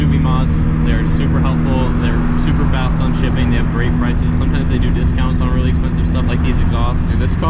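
A Subaru BRZ with an aftermarket exhaust idles with a steady, droning engine note, heard close and loud throughout while someone talks over it.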